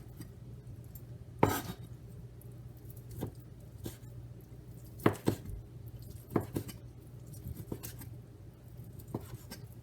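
A knife slices cooked chicken for chicken and chickpea shawarma on a board. Sparse, quiet cutting taps and thuds come at irregular intervals over a low steady hum, with no talking.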